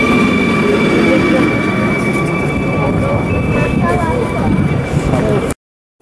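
A Flirt ER160 electric train travels from Warszawa Wschodnia station, heard from inside as a loud, steady rumble with a high whine that cuts off abruptly at the end.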